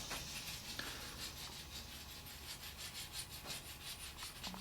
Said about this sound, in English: Just use that rasp to get it down there where you drew your lines.